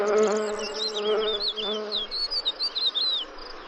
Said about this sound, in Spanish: Claro que una abeja a la defensiva es una excepción.